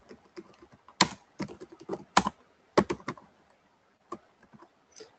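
Typing on a computer keyboard in a UNIX shell, close, crisp keystrokes in irregular bursts with a few sharper, louder key presses and short pauses, no talking.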